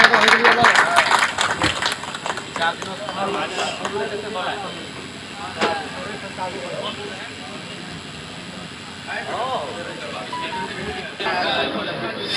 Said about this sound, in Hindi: सभी जोरदार तालियों से स्वागत एक बार करें गर्म जोशी के साथ